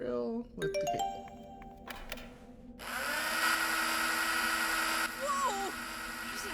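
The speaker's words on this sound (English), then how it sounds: "Use the drill with the cable." Cabled drill in the video game Beyond the Edge of Owlsgard, starting up with rising whirring tones, then a sustained loud, buzzing mechanical drone layered with warbling electronic whines, close and continuous.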